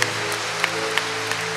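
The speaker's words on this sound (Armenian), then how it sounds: "եկեք բարձր ծափարենք Աստծուն" A church congregation applauds during a Resurrection service, a dense, even wash of clapping over a sustained musical tone, short and fairly loud.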